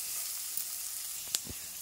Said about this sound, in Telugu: ఇలా ఉల్లిపాయలు కొంచెం వేగుతున్నాయి కదా